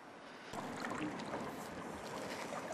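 A paddle pulls a small boat along on open water, a steady wash of splashing and rippling with wind noise that starts abruptly and carries on at a moderate level, no voices.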